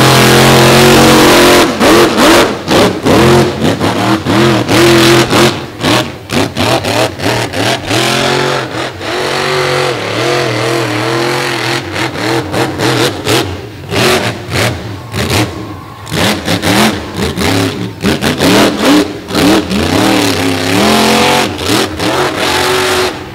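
Monster trucks with DCT Power Sports builds roar at a beach show, their big engines revving hard and surging repeatedly in loud, close bursts with a growling, throttle-blipping rhythm and crowd noise underneath.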